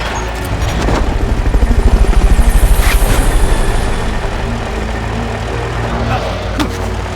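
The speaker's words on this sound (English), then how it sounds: "Fulton recovery helicopter is complete." Helicopter in the video game Metal Gear Solid Peace Walker, a Fulton recovery chopper whose loud rapid rotor thumping swells over the first few seconds, then fades into a steady engine rumble with distant booms.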